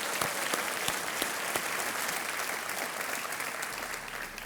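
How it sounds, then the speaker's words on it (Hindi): A studio audience at the quiz show Kaun Banega Crorepati applauds steadily, dense clapping filling the room at an even level throughout before easing slightly at the end. "तालियों के साथ हम इनका अभिनंदन और स्वागत करते हैं"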